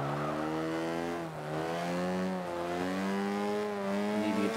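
Mini Cooper S engine in Forza 5 holds a steady, loud drone on a race track, its pitch dipping and climbing again as the car works through the gears, with no talk over it.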